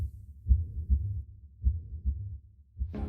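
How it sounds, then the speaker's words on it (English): A slow, muffled heartbeat sound effect, deep thumps in irregular pairs repeating alone against near silence, with a brief brighter burst at the very end. "The only thing he could hear was his own heartbeat."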